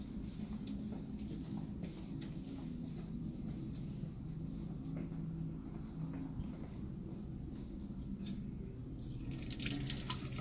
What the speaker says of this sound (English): we're going to come over to the sink and clean it really good